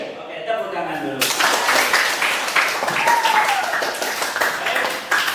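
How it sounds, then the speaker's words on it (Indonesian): Schoolchildren clap in a classroom during an Indonesian lesson, a steady burst of many hands starting suddenly after a moment of voices and continuing loudly throughout, with some talking mixed in. "Oke, tepuk tangan dulu."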